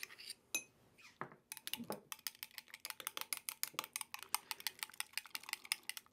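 Metal spoon clinking and scraping steadily against a pot while melted butter is stirred into a 1932-style Mississippi camp stew outdoors, quick rhythmic taps, close and fairly faint.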